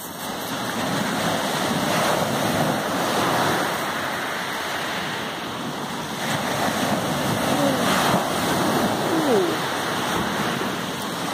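Ocean waves roll in on a rocky shore as the tide starts to come in, making a steady, full wash of surf that holds constant throughout, with some wind buffeting the microphone.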